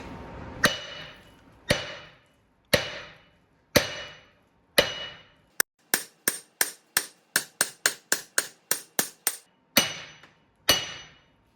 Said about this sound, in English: so you just use a big hammer. Just beat it.